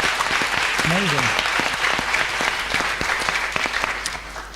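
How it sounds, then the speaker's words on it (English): Audience applause at a spiritual talk, a lively patter of many hands clapping throughout, with a voice briefly talking over it early on. "I think we should give Grace a round of applause for being so brave"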